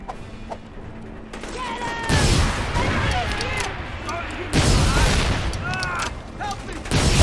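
Heavy gunfire and explosions in Mercenaries 2: World in Flames, dense continuous bursts and booms with loud swells, a voice shouting faintly beneath the battle din.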